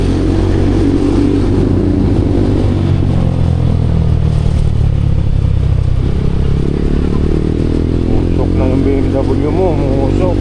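A smoky BMW motorcycle engine running with a loud, steady rumble throughout, while people talk over it nearby.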